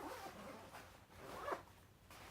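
A zipper slides open on a Nintendo Switch carrying case, a quiet, close scraping run of teeth lasting about two seconds and rising briefly near the middle, with no talking.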